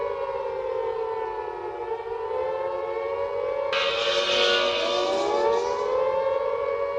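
A mock 1976 Mexican emergency alert siren wails loud and steady, a civil-defense tone that shifts partway through to a brighter, harsher pitch before slowly bending and sliding, with no voices.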